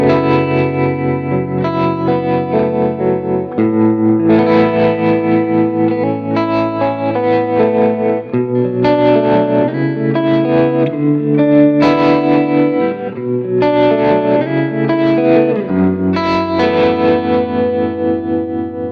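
Electric guitar played through an Axe-Fx II preset with tremolo and reverb, loud and sustained chords pulsing in a steady wavering rhythm for nearly twenty seconds, alone with no talking.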